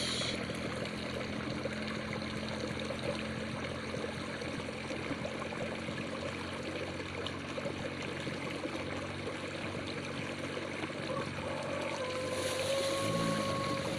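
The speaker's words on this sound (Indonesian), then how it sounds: "Wih, deras sekali arusnya ini, di bawah arus." A strong river current rushes steadily underwater, a dense continuous wash with no speech.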